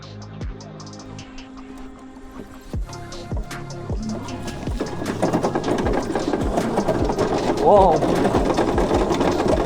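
A homemade mini go-kart engine revs and drives along a track in first gear, its buzzing motor note rising and growing louder over about ten seconds, with a brief exclamation from a person partway through.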